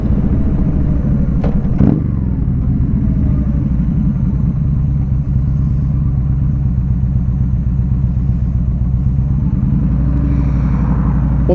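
A 2015 Yamaha V Star 1300 Deluxe cruiser motorcycle engine runs steadily up close, a loud low rhythmic rumble with a couple of brief clanks early on and no talking.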